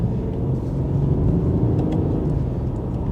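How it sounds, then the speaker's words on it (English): Steady, close low diesel drone inside a BMW 535d M Sport F10 twin-turbo saloon during a sharp gear change in Sports Plus mode, with a slight lift in level partway through and no talking. "Gear change again in Sports Plus is sharp"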